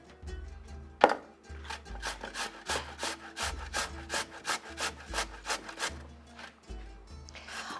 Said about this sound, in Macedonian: Најпрви ќе го изрендам компирот